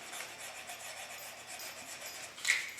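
Sandpaper rubbing against a small turned wooden Christmas ornament on a lathe, a steady close, soft rasping hiss that runs continuously with one brief louder scrape near the end.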